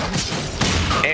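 Stake gun from the game Painkiller firing, a few heavy thumping shots with crashing impacts, loud and close, under a talking voice.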